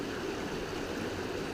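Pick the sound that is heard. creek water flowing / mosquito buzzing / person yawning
creek water flowing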